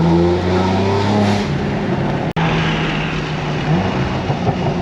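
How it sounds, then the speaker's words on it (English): A BMW G82 M4 with a loud aftermarket exhaust blips its engine through downshift rev matching, deep rising and falling engine tones with a brief cut midway, close and loud with no talk. "Some nice downshift rev matching for you guys."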